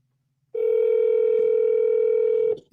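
A steady telephone dial tone while a call is being placed, holding level for about two seconds and then cutting off abruptly, heard alone with no talking over it.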